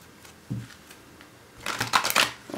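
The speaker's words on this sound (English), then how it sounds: "I think there's one more shuffle yet." Tarot cards are shuffled by hand, a couple of soft thumps followed by a brief close riffling flutter.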